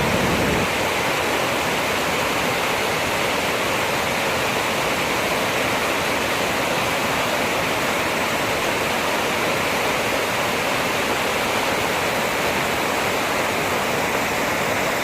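Gushing creek water pouring over a waterfall, a loud, steady, broadband roar that continues unbroken and close by, with no voices.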